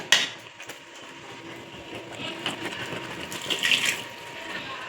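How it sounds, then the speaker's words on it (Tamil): Water pours steadily into a cooking pan while making paneer butter masala, a continuous splashing rush at moderate, even volume with no one talking. "தேவையான தண்ணி அதை ஊற்றிடுங்க"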